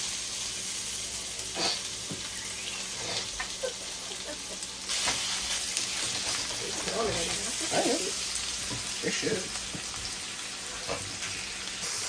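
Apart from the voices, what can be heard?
meat frying in a pan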